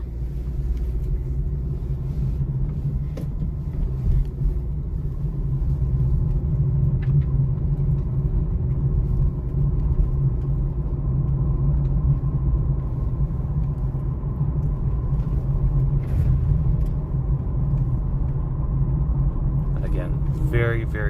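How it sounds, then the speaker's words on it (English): 2023 Honda CR-V EX-L driving on a road, a steady low engine and road rumble continuing for about twenty seconds, heard from inside the cabin with faint occasional clicks. "the car is handling very smooth"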